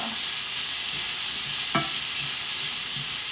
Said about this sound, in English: And I am cooking them on high heat because I'm sauteing them.